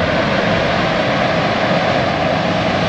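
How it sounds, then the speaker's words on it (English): Helicopter rotors and engines droning steadily overhead above burnt bushland in Australia's Atherton Tablelands, a loud, continuous wash of broadband noise with no talking. "they've got the choppers out"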